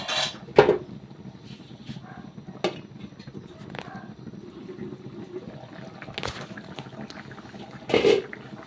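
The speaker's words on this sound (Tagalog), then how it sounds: "Haluin lang natin siya ng haluin" A pot of chicken curry being stirred as it boils, with scattered clinks of a utensil against the pot and a soft simmering bubble underneath, close by.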